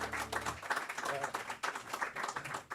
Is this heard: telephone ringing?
no